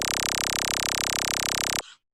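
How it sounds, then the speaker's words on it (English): A dense train of rapid all-pass filter chirps made for impulse response measurement gives a loud, broadband, evenly pulsing buzz that stops abruptly and leaves a brief faint tail. "So if you just take these chirps and create a chirp train,"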